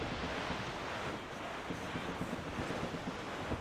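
Dense wind roars steadily over breaking waves at sea in the video game Assassin's Creed Rogue, a loud, continuous wash of surf with gusts and splashes and no voices.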